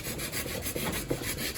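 Sandpaper roughs up an epoxied fiberglass surface on a 9.5-foot wooden boat modelled on an English punt, a steady, quiet run of back-and-forth rubbing strokes with no voices.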